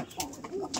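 Breeding pigeons on a home loft coo in short, low, wavering phrases close by, with a few brief sharper bursts in between.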